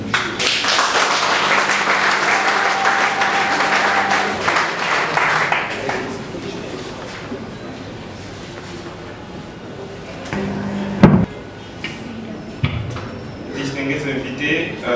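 Audience applause at a conference in Lubumbashi, a loud burst of clapping over the first few seconds that fades out, followed by scattered bumps and thuds as someone speaks.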